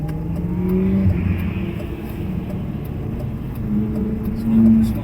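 A Lamborghini drives along a road and accelerates, its engine a low, steady rumble that swells slightly toward the end, heard from inside the car with faint background noise.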